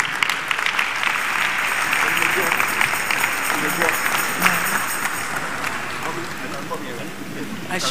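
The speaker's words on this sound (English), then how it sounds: "let's clap our hands for Jesus as she steps forward" An audience at a birthday public lecture applauds steadily for about eight seconds, a dense wash of many hands clapping at even loudness, with faint crowd murmur mixed in.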